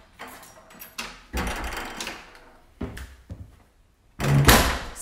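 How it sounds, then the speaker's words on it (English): Interior door of a two-bedroom cottage being pushed shut, with shuffling and rustling movement leading up to a final firm thud and latch near the end. "Just shut the door behind me."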